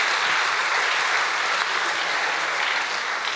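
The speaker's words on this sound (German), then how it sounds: "Einen großen Applaus für den Schwiegersohn in Spee." Sustained applause from the audience at a live geology quiz show in Bonn, a thick, even wash of many hands clapping at once, steady and fairly loud with no speech over it.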